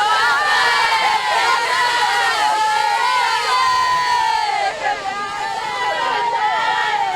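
Oakland cheerleaders perform a loud group cheer, many voices chanting and shouting in rising, drawn-out calls with crowd noise behind, sustained throughout with a brief dip near the end.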